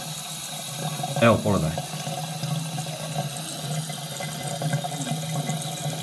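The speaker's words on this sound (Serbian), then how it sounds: "Evo već minutu i pol ide voda po njemu." Tap water runs steadily over a piece of meat in a sink, a continuous close splashing and gushing, while someone speaks briefly near the start.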